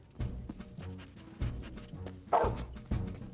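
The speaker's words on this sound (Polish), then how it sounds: "Dobry piesek." A cartoon dog barks and yips in short bursts, several quick woofs in a row sounding fairly close and alone, with no one talking over them.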